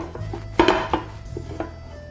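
A frying pan and plate turned over together to flip a Spanish tortilla, a few close clanks and knocks of metal and crockery in quick succession, then a brief quieter clatter.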